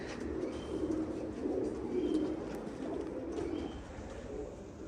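Pigeons coo continuously at a bird market stall, a soft, steady murmur of several birds close by with faint background bustle.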